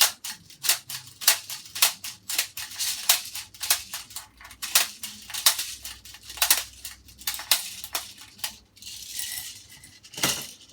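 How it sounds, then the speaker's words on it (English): An airsoft M4 magazine is reloaded, with a quick series of sharp metallic clicks as BBs are pressed in one by one, close and irregular, on a quiet background without speech. "let's reload the mag"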